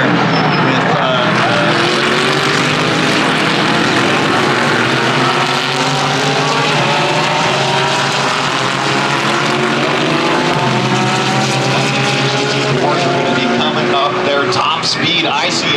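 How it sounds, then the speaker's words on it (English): Race cars, among them a Heart of Racing Aston Martin, scream past on a circuit in a loud continuous roar of high-revving engines with rising and falling pitch, and commentary voices run over the racket. "Gables having to hold off that Heart of Racing. Aston Martin trying around the outside there"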